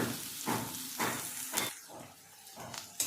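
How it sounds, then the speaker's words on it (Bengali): Chopped onion frying in hot mustard oil gives a soft sizzling hiss that surges in several bursts as it is stirred, close but fairly quiet, with no speech. "পেঁয়াজটাকে হালকা করে একটু ভেজে নেব"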